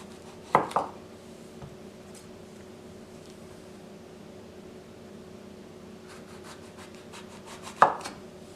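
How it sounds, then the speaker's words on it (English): Two sharp knife chops on a cutting board as the top and end come off a fresh green tomato, one near the start and one near the end, with quiet room hum in between. "First, I am going to remove the top and end of tomato."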